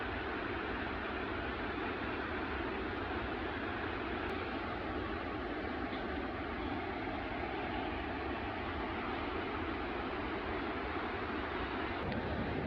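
Roar of Rhine Falls in Switzerland, Europe's biggest waterfall, a loud, steady broadband rush of falling water that fills the whole stretch without pause, with no voices over it.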